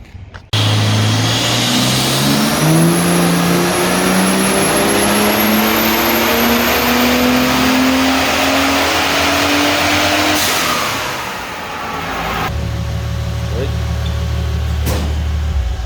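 A turbocharged Ford BF Falcon XR6 Turbo straight-six on a dyno, loud and close, revving up in one long sweeping pull with a rising turbo whine, then backing off and settling to a lower drone.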